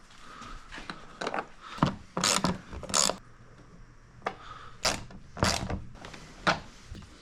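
A ratchet fitted with an extension loosens T30 bolts during a winch install, giving a series of sharp, close ratcheting bursts in irregular clusters with brief quieter gaps and no speech.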